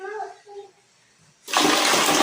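Water running in a squat-toilet bathroom at a pine-valley campsite in Puncak, Indonesia: a short stretch of speech, then a sudden loud, steady rush of water that fills the rest of the moment.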